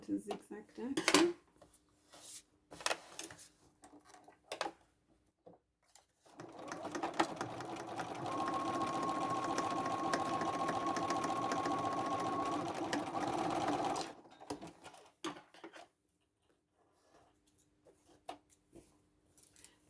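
A sewing machine runs a zigzag stitch through red velvet for a tote bag, one sustained whirring burst of about eight seconds between scattered handling clicks and rustles.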